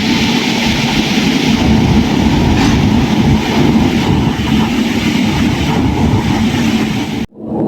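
A Chennai to Thiruvananthapuram weekly superfast express hauled by a WAP7 electric locomotive rumbles along with a loud, steady roar and rail noise throughout, cutting off abruptly at the end.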